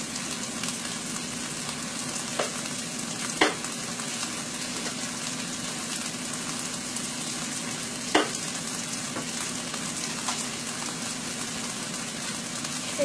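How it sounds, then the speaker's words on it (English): Broccoli stir-frying in a pan for chicken lo mein, a steady sizzle with a few sharp clacks of stirring, close and continuous, no voices. "so you want to cook off those broccoli too. Give this a little turn."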